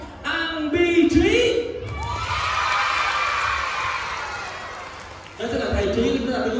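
An audience at a children's dance show breaks into cheering and applause, a loud swell of shouting and clapping between stretches of an MC speaking over the sound system.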